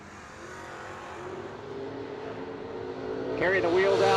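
Drag race cars launch at the No Delay Nationals, a broad roaring engine wash building steadily louder, with a sharper rising rev near the end and a commentator talking over it.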